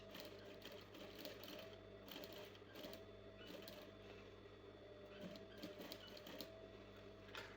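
A sewing machine stitching the neckline of a baby frock, a rapid mechanical whirring and clatter running in bursts with brief pauses, quiet and close.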